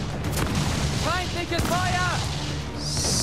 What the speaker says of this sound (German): Die rammt uns und wir knallen einmal mit den schweren Kugeln rein.